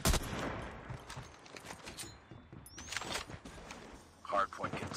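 M16 assault rifle gunfire in a multiplayer shooter video game, heard as bursts of tapped rifle shots mixed with other game sounds and voices.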